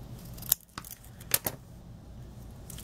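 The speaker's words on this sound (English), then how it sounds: "Cut like 2 long triangles." Scissors snipping paper into two long triangles for a Halloween vampire treat box craft, with a few sharp, separate close-up snips and cuts against a quiet background.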